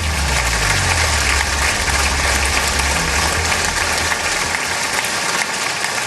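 Sustained applause for Indian Prime Minister Modi at the US Congress, a dense, steady wash of many hands clapping throughout, with a low rumble underneath and no speech.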